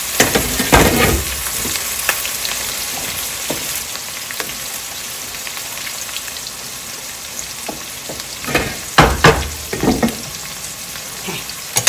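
Onions and gourd leaves sizzle and fry in a pan, a steady crackling hiss running throughout with louder bursts of stirring near the start and again toward the end.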